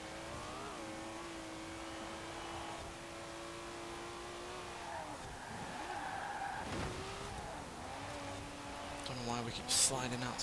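A car in Forza Horizon 4 slides with its rear end stepping out, engine droning and changing pitch under steady tire scrub, with a sharper squeal and a louder burst near the end, while someone talks throughout.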